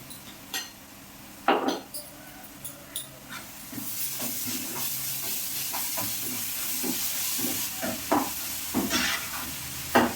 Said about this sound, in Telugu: అల్లం వెల్లుల్లి వేసాం కదా, కొంచెం వేయించుకుందాం కొంచెంసేపు